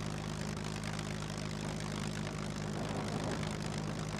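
A light aircraft engine idles in the survival game SCUM, a steady, droning propeller hum with a low tonal buzz, constant and close throughout.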